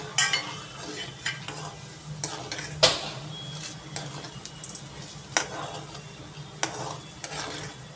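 Urad dal frying and being stirred in a pan for upma, with a steady low sizzle and sharp scraping clinks of the spoon against the metal at irregular moments, heard close with no talk.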